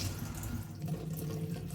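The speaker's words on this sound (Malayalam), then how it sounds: "ഇങ്ങനെ പൈപ്പിൽ വെള്ളത്തിൻ്റെ ഫോഴ്സ് കുറച്ച് വെച്ചിട്ട് കുറേ നേരം ഇങ്ങനെ കഴുകും" Ivy gourd is being washed under a kitchen tap running at low pressure, a steady, soft stream of water splashing continuously without pause and with no voices.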